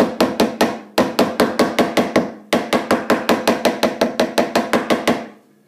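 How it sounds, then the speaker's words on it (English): A lightweight claw hammer taps frets into the neck of a Gibson CL-30 Deluxe guitar during a refret: three rapid bursts of sharp, evenly spaced close strikes, loud and alone with no talk. "you don't even need a fancy fret hammer, just a little lightweight claw hammer. I'm going to be tacking the ends in"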